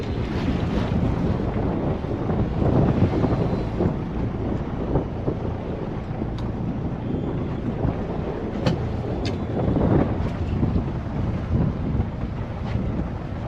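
Strong northwesterly wind buffets a fishing boat miles offshore at sea, a steady loud roar of wind noise across the microphone with waves and water sloshing beneath, continuous throughout with no talking.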